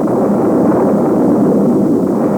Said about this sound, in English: Oh, boy, Boris, those things make loud booms.